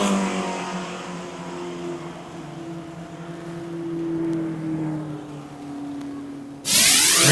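Race cars on a super short track accelerate away at a restart, a loud steady engine drone with rising pitch that holds for several seconds before a sharp burst of broadband noise at the end.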